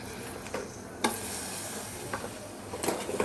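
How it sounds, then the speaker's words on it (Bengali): Freshly fried, crisp gaja pastries go into hot sugar syrup, giving a steady soft sizzle and bubbling with a few light clinks and stirring knocks, close and alone. "চিনির শিরাটা গরম আছে, তো এর মধ্যেই আমি দিয়ে দিচ্ছি"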